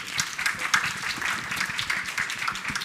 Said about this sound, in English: huge round of applause to you